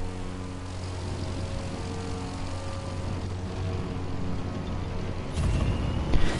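A propeller airplane drones steadily in a video game, a constant engine hum with a louder swell near the end.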